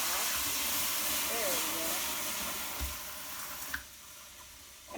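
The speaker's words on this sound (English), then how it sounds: "It might sizzle, but I'm just rinsing it out." Broad hissing sizzle as water hits a hot pan, with a few clanks, then the hiss eases into a softer rush.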